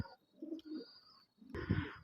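Pigeons coo in low, soft bursts, two short rounds separated by a pause, close by with faint background noise.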